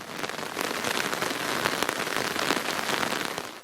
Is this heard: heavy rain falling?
yes